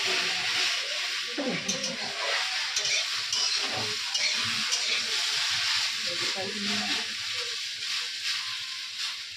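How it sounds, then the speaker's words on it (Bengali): Food frying in hot oil in a pan, a steady bright sizzle running throughout with occasional stirring scrapes and voices talking nearby. "ততক্ষণ একটু ভাজা ভাজা হোক, তারপরে মশলা দেওয়া হবে"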